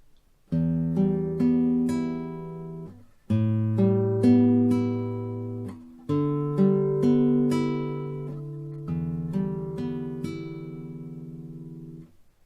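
Fingerpicked guitar plays a slow repeating pattern of low bass notes with higher strings ringing above, four gentle phrases, close and unaccompanied.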